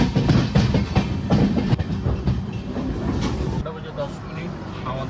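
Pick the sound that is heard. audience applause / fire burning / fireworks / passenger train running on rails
passenger train running on rails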